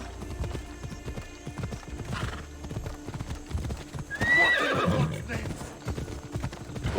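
Horse in the video game Assassin's Creed Odyssey, with steady hoof clip-clop throughout and a clear neigh or whinny in the middle, heard alongside game music and faint speech.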